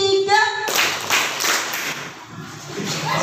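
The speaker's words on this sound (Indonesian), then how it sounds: "Tepuk 3." Schoolchildren in a ninth-grade maths classroom clap together in a short patterned burst, with voices and light chatter mixing in around the claps.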